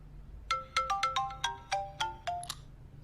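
A mobile phone ringtone plays in a Chinese drama dubbed into Hindi, a quick melodic run of about ten bright electronic notes in an uneven rhythm, moderately loud over a low hum, with no talking.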